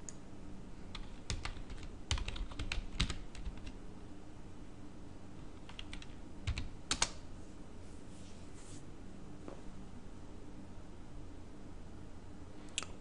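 Someone types a dhclient command on a computer keyboard, producing quick clusters of close key clicks with short pauses between bursts, over a steady low hum and with no talking.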